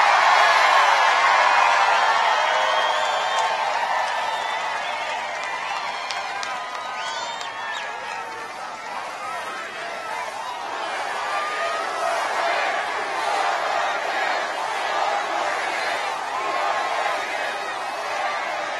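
A large crowd cheers at a Trump rally in Freeland, Michigan, a steady roar of voices and applause that stays loud throughout, fading slightly midway before swelling again, with no talk above it.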